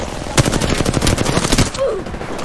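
Rapid automatic gunfire in the video game Apex Legends, a loud, tight string of shots after one sharp opening crack, trailing off into quieter noise.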